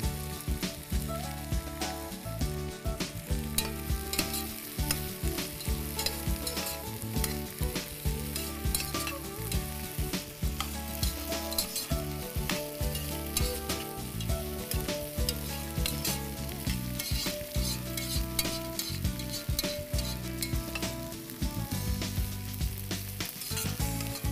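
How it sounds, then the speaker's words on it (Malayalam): Chicken and beans sizzle steadily in a hot pan while being stirred, a dense, continuous frying hiss with frequent scraping strokes throughout, close and without any voices. "ചിക്കൻ ഫ്രൈ ആയി വരുന്നുണ്ട്. ഇതിലേക്ക് നമുക്ക് ബീൻസ് ചേർക്കാം."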